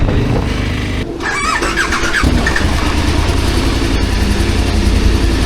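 A motorcycle engine cranks and catches: a brief squealing starter whir, then the engine fires and settles into a loud, steady running rumble close by, with no talking.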